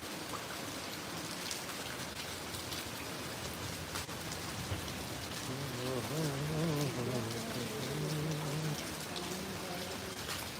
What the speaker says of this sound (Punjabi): ਸਵੇਰ ਦਾ 7-8 ਵਜੇ ਦਾ ਮੀਂਹ ਪਈ ਜਾਂਦਾ